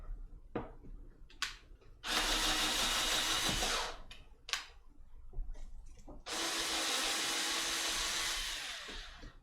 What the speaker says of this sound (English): So we need to drill.